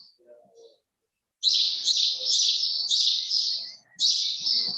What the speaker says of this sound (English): For the noisiness of the birds